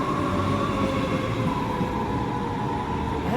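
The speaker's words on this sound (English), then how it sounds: "Here's our train." A train pulling in on frosty tracks near the Düsseldorf exhibition centre during the Boot 2023 boat show, a steady rumbling roll with a faint squeal on top, continuous and close, no voices.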